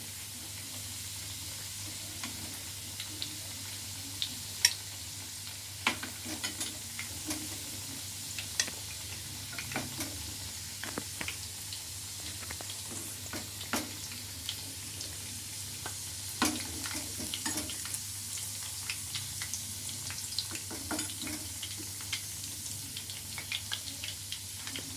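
Chicken kofta frying in a pan gives a soft, steady sizzle with scattered small pops and crackles, quiet and close, with no talking.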